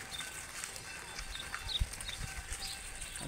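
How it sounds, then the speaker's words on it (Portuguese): A herd of cattle walking past on the way to a lagoon in Horizonte, Ceará: soft, scattered hoof thuds and shuffling over steady outdoor ambience, with faint bird chirps, moderately distant. "Olha a boiada aí, pessoal."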